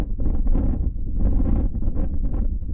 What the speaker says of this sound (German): Es herrscht stürmisches Wetter.